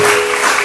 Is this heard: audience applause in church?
yes